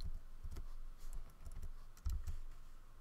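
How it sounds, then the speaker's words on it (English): Computer keyboard keys are pressed in a quiet, uneven run of soft clicks and taps, several presses close together at fairly low volume. "So we're going to hit A on our keyboard."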